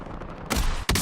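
Rapid gunfire in the online shooter Valorant, a dense burst of shots filling the second, then a brief gap and another sharp volley, loud and close with no speech.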